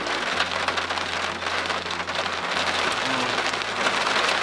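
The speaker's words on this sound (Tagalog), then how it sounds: "Lumalakas na yung ulan" Heavy rain pours steadily outdoors, a dense, even hiss of drops drumming on surfaces that stays loud throughout, with a low steady hum beneath it and no talking.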